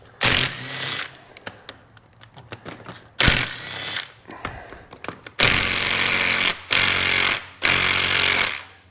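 A battery-powered impact tool removes bolts from a 2009 Arctic Cat DVX 300 ATV, sounding as loud, close bursts of rapid hammering. There are several short runs with brief clicks between them, then three longer buzzing bursts.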